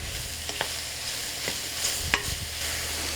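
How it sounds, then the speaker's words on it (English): Mushrooms sizzle and fry in a pan with clarified butter, a steady close hiss broken by light clicks and scrapes of stirring. "So you can hear the sizzling"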